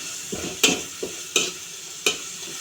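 Garlic fries in hot oil under a steady, soft sizzle, punctuated by four or five sharp spatula scrapes and taps at an even rhythm, close by and with no speech.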